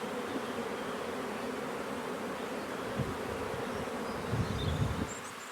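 Honey bees buzz in a dense, steady drone while a swarm is taken from a hive, fairly soft and continuous with no voices.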